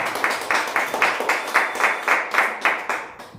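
Small audience at an open mic clapping in a steady, fairly regular rhythm, individual claps distinct and close, trailing off at the end.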